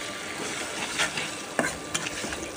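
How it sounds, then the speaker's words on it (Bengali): Egg stir-frying in a pan, a soft steady sizzle broken by a few sharp scrapes and taps of the spatula as it is stirred. "এভাবে নেড়ে চেড়ে ডিমটাকে ভেজে নিতে হবে।"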